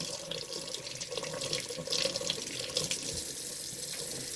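Tap water runs steadily into a sink as an acrylic paint brush is rinsed under the stream, a close, even rush with faint splashing and no voices.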